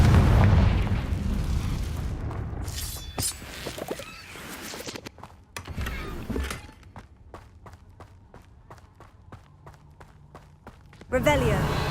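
The Confringo fire spell explodes in Hogwarts Legacy, a booming blast followed by crackling impacts and rapid footsteps, with a voice speaking over parts of it.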